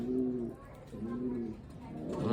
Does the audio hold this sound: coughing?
no